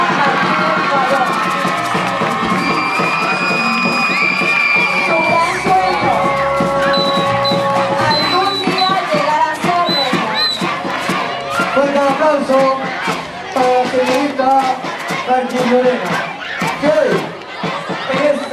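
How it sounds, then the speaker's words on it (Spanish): A crowd at a school anniversary celebration in San Calixto cheers and shouts loudly and continuously, with excited voices overlapping, applause mixed in, and an announcer talking over it. "El fuerte aplauso para la linda representante del grado noveno, Martín Torreja Martínez Guayón."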